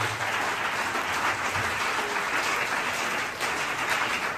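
A church congregation applauds during a sermon, with dense, sustained clapping from many hands filling the room and no speech over it.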